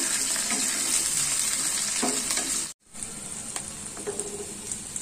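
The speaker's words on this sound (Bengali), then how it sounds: "একটু মাশরুমগুলো ভেজে নিবে।" Mushrooms frying in a pan, a bright continuous sizzle with occasional stirring, briefly cut to silence midway before the sizzle resumes, no talking.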